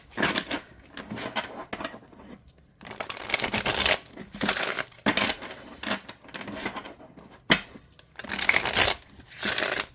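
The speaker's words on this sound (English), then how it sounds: "Let's see how it shuffles." Wicked tarot cards being shuffled by hand in bursts of dry riffling and sliding card noise, several separate shuffles with short pauses between them, close and fairly quiet.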